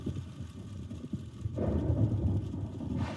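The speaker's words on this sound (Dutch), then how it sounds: "Het is maar een beetje donder en bliksem," Rolling thunder from a lightning storm in a children's series, a low rumble that swells louder midway and keeps grumbling to the end, with no talking over it.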